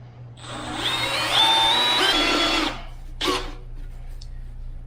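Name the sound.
power drill drilling a hole in a turbo pipe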